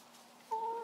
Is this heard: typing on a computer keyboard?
no